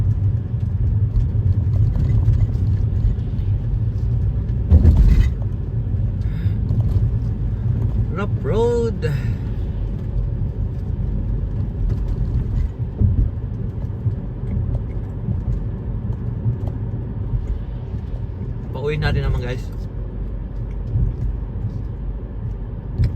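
Car interior on a rough, potholed road, with a steady low engine and road rumble throughout, a few bumps and jolts, and a person speaking briefly now and then.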